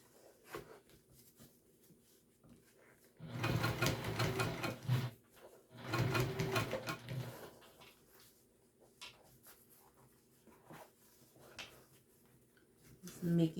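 A sewing machine stitches backpack pieces for a Summit Pack at a shorter stitch length, running in two loud bursts of a few seconds each with quieter pauses between, while a person talks nearby.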